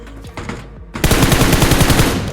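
Gunfire sounds in a BGMI (PUBG Mobile) match, with a few scattered shots early on followed by a loud, sustained burst of rapid automatic fire up close.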